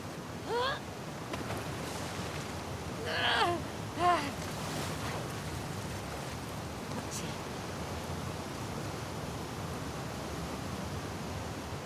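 Rough water waves in The Last of Us Part II, a steady broadband wash of surf and churning water throughout, with a few brief tonal sounds rising over it early on.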